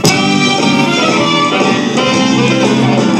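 A bouncy, dense retro song, the Schoolhouse Rock cartoon song about conjunctions, with singing voices over full instrumental backing, loud and continuous throughout.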